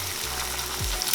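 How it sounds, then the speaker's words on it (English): An egg dropped into a hot pan for a bison patty melt, giving a steady close sizzle that swells suddenly near the end as it hits the fat, with no talking. "crack it, drop it in the hot pan"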